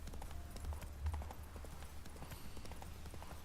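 Horse hooves clip-clop in a quick, steady galloping rhythm on Roach, the horse in The Witcher 3: Wild Hunt, fairly quiet and continuous under a faint low rumble.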